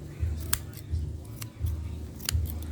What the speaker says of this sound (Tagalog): Pupurol yung gunting mo kasi pampapil lang yan